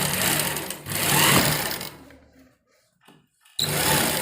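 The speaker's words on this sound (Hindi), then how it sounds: "दोनों तरफ फिटिंग की सिलाई हमारी लग चुकी है।" Sewing machine stitching the side fitting seams of a kurta, running in fast, loud bursts close by, stopping for a short quiet gap before starting up again.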